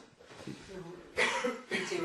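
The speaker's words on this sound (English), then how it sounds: "oh God, it is a bad cough" Two harsh coughs burst out close by, one after the other, over a faint background of indistinct voices.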